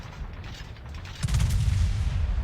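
Bismarck's 380mm main battery guns firing in World of Warships, a sudden deep booming salvo halfway through that rolls on loudly over a softer rumbling background.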